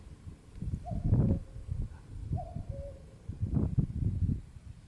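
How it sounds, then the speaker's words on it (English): A cuckoo calls in the hills on the trail from Mallaig toward Barrisdale, a pair of soft, fairly distant hooting notes heard twice against quiet outdoor background. "That was a cuckoo."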